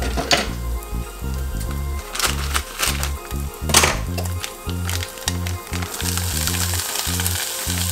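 Cauliflower rice fries in a hot pan with a steady, loud sizzle, punctuated by scraping and stirring knocks from a utensil throughout.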